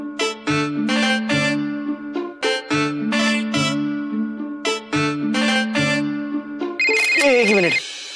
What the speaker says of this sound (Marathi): एक मिनिट, फोन आला।